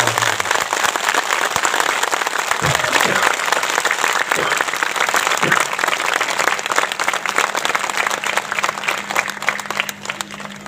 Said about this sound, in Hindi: एक बार सभी एक दूसरे के उत्साह वर्धन में तालियों की गड़गड़ाहट